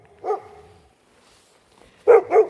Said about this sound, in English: There's Tequila barking at me because I won't come off the deck.